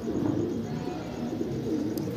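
Pigeons, Punjabi Laltara among them, coo steadily in a soft, overlapping warble close by, with a faint tick near the end and no talk.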